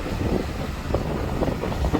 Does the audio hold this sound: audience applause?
no